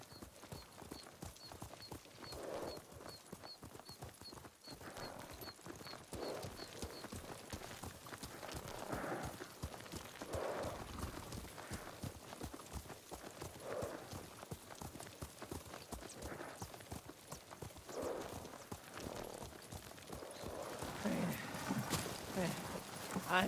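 A horse ridden at a steady walk in Ghost of Tsushima gives a continuous, even clip-clop of hooves throughout, moderately close, while characters talk over it.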